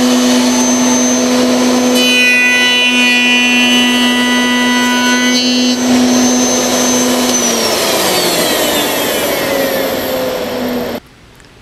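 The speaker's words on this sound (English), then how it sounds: "as I push it through the router bit" A router spinning a stile bit cuts a door-frame piece held in a coping sled, a loud, steady high whine that shifts pitch midway, then winds down and cuts off abruptly near the end.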